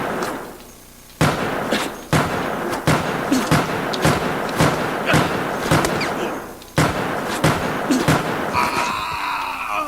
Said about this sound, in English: 12 shots from the standard handgun to take down a human player